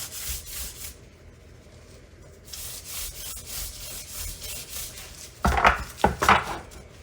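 Dry seasoning rubbed by hand onto baby back ribs, a steady close scraping rub with two louder bursts of handling near the end.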